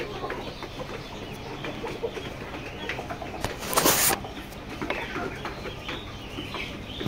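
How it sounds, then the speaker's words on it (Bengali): Layer chicken parent stock clucking in a poultry house, a dense, continuous chorus of many birds at close range with a brief louder burst partway through, no voices. "লেয়ার মুরগি প্যারেন্টস রয়েছে এখানে।"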